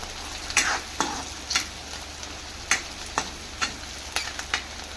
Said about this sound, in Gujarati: ડુંગળી નાખ્યા બાદ નાખીશું આ મરચાંને નાખી હું મિક્સ કરી દઈશ.